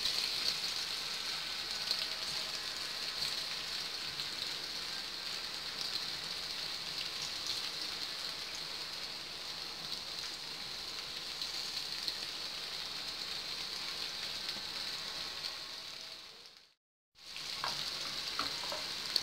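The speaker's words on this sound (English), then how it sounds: "I'm adding in the paneer. Just gently toss it." Paneer frying in hot oil in a pan, a continuous bright hiss and sizzle that stays steady and close, briefly cutting out near the end before resuming.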